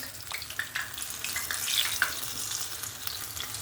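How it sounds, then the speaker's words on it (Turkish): Spinach pieces sizzle and crackle steadily in hot oil, fried three at a time, with a few small pops and clinks over a constant frying hiss. "üçer üçer kızartacağım çıtır olması için"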